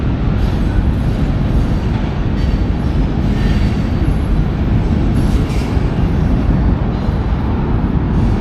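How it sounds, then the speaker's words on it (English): A train rumbles loudly over a riverside trail bridge in downtown Richmond, Virginia, a heavy continuous roar of wheels and cars passing close overhead with faint squealing, sustained throughout. "On this part of the river, the train goes right over top of"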